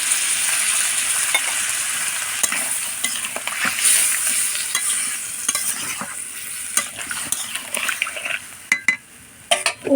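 Pumpkin pieces sauté in a pan for a rural-style Bengali pumpkin curry, a steady close sizzle running throughout, with repeated scrapes and knocks of a stirring spoon against the pan that grow sharper near the end.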